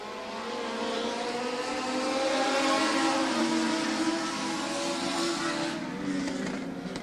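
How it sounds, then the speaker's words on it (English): Dirt track race cars roar steadily along the back straightaway at Maquoketa Speedway during MLDS heat races, a loud continuous engine drone with shifting pitch as the pack passes, no talking. "Now Talon Newman looking to the outside of Moline for the 3rd place spot as they work on the back straightaway."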